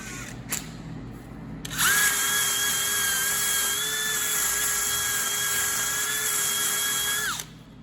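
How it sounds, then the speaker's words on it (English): A wire brush spun by an electric drill cleans out a part from an Allis Chalmers WD tractor rear end, a steady high whine running about five and a half seconds after a short pause, loud and close, with no talking. "I'm going to take my wire brush on my drill and clean that out"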